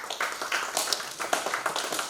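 An audience at a social entrepreneurship session applauds a graduate, scattered overlapping claps forming soft, continuous applause in a room, moderately distant.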